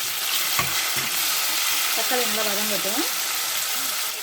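Tomatoes sautéing with onions in a pan for a Tamil dried fish and kidney bean curry, a steady close sizzle with occasional stirring scrapes and a brief voice-like tonal sound partway through.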